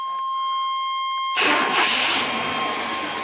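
A '97 Chevy K1500 truck with a failing fuel pump cranks and fires up after a quiet electrical whine, then settles into a loud, close idle.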